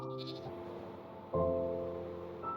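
Goats in Minecraft bleat in short, nasal, wavering calls, with two or three separate bleats close and clear over a quiet background.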